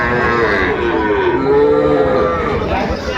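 A young bull calf at the Ambari cattle market in Dinajpur lets out a loud, close, drawn-out moo that wavers in pitch over a few seconds.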